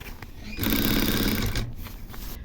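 Close, loud burst of a sewing machine running a continuous seam through quilted raincoat fabric on a men's jacket, about a second of rapid steady stitching, then quieter handling noise.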